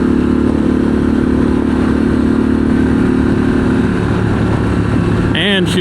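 A 2023 Harley-Davidson Pan America Special motorcycle engine in sport mode runs loud and close with a rough, steady rumble and clatter, and a voice speaks briefly near the end.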